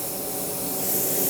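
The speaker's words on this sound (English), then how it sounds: "He's going to spray that center yellow," A spray gun laying down yellow transparent shader for the center of a sunburst on a Gibson Les Paul, with a continuous close airy hiss that swells slightly louder toward the end.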